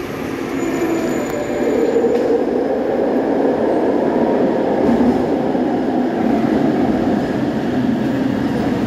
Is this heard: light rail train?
yes